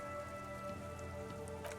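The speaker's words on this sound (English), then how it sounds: "A yard, rain falls onto the roof of a woodshed." Soft rain patters on roofs in Disco Elysium, a faint, even drizzle of drops under a sustained tonal hum, with no voices.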